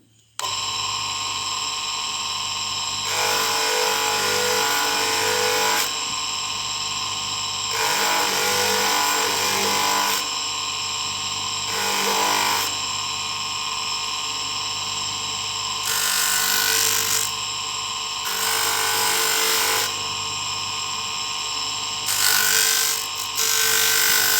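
A mokume gane metal ring is sanded with 220 grit sandpaper in repeated bursts of abrasive rasping, each lasting a few seconds, over a steady background hum.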